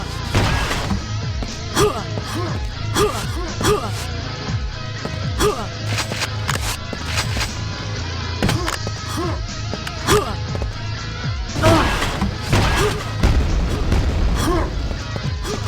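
Rocket launcher shots and booming explosions from a Quake 2 match, repeated loud blasts and thuds in quick succession amid game effects, with a commentator talking over them.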